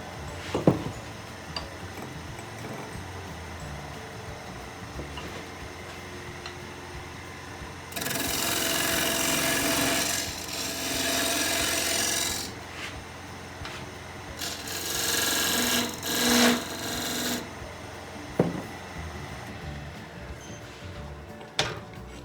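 A skew chisel cuts into wood in two sustained, rasping passes separated by a pause. Each pass is loud and close, and fainter taps and quieter handling come before and after.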